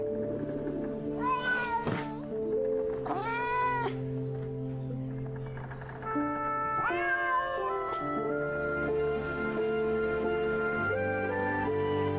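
A cat meows several times against a steady tonal background of music, with long drawn-out cries spread across the passage.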